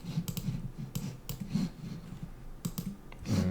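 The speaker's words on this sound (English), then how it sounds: "I'm nudging it down and up using the arrow keys on my keyboard." Arrow keys pressed on a computer keyboard give a handful of sharp, close clicks in small irregular clusters over a low steady hum.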